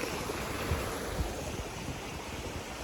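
Creek water rushes at a trail crossing on the Pinhoti Trail in Alabama, a steady broadband roar of flowing water with a few low bumps of wind on the microphone, continuous and close.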